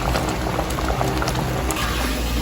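Champorado, a chocolate rice porridge, boils steadily in a pot on the stove, giving a continuous close bubbling and popping with a low rumble and no talk.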